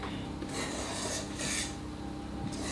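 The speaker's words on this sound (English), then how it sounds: "you cut through the middle of your mixture, and then you sort of mix in a half circle again" Chocolate Swiss roll batter with cocoa powder being folded by hand in a bowl, giving repeated soft scraping and rubbing strokes in a steady cut-and-mix rhythm, close by, with no talk.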